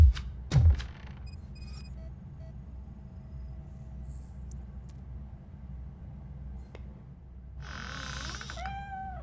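A cat meows in the video game RoboCop: Rogue City, a drawn-out wavering call near the end, after an opening thud and sparse game effects over steady low background hum.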